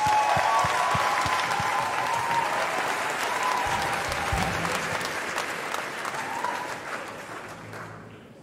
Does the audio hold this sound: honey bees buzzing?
no